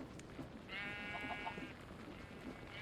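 A sheep in Minecraft SkyFactory 5 gives a single short bleat, moderately clear over a quiet game background, with no one talking.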